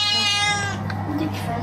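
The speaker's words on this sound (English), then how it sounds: "Ja, ist eine Katze." A cat gives one drawn-out, somewhat raspy meow up close, with faint background noise after it.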